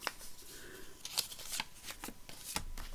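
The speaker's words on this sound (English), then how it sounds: "let's cut some off the paper" Scissors trim a sheet of paper for a tri-fold journal page in a craft setting, making a quick run of crisp snips and rustles close by, with paper shuffling between the cuts.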